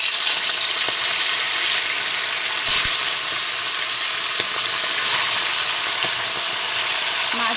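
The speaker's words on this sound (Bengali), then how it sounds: "তেল গরম হয়ে গেছে, এবার আমি তেলের ভিতরে ছেড়ে দেব মাছ" Fish coated in turmeric and chili powder fries in hot oil with a steady, loud sizzling hiss throughout and a few soft clicks of a utensil.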